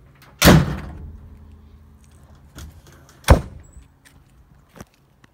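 Checker plate bed cover on a SsangYong Musso EX pickup slamming shut with one loud, close thud, followed by a lighter knock and a couple of faint clicks or rattles as it settles.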